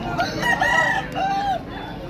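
A rooster crows at a busy chicken market in Purulia, a drawn-out call rising and holding over steady crowd bustle, fairly close and loud, with other fowl faintly around it.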